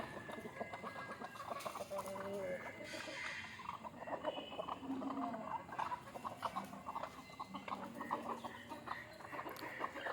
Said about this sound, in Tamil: இங்கே 3வது கோழி ஆகிடுச்சு மேலே. அழகா மரத்தை மேலே ஏறி இருக்கும்.